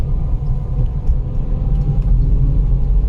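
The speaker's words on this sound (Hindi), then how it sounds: "ट्रैफिक है रोड पे।" Road traffic rumbles steadily from inside a car on a night drive to the Jim Corbett National Park area, a constant low engine and tyre drone with no voices, close and continuous.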